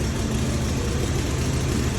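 A Harley-Davidson motorcycle with stock exhaust pipes idling close by, giving a steady, even, low engine rumble throughout.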